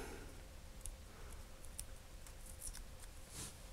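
Small scissors snip through washi tape in a string of quiet, crisp clicks and cuts, close and faint, with no talking.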